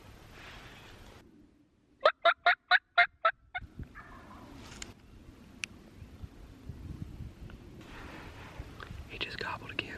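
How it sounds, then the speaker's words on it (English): Wild turkey tom on Kansas public land gobbling in a loud burst of about six rapid pulses, followed by quiet field ambience with faint rustling. "He just gobbled again."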